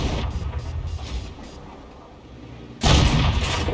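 A 105mm tank gun fires in a tank battle video game, a loud sudden blast near the end after quieter clattering battle noise and rhythmic mechanical thumps.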